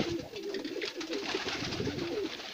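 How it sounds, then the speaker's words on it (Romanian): Several pigeons coo steadily and continuously in a loft, soft repeated throaty calls overlapping close by with no talk. "Acum am băgat alți porumbei"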